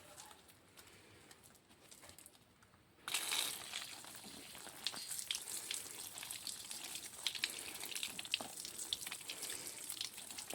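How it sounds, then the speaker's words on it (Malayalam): A household water tap is turned on after a quiet stretch, and a steady hiss of running water starts abruptly and carries on with small splashy crackles, while faint birds call nearby outdoors. "ഇത് പിടിച്ച് പൈപ്പ് ഓണാക്കാം."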